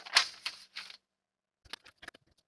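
Scissors cut fabric strips for the bands of a sling bag, giving a few crisp snipping strokes, a pause, then a quicker run of small close snips.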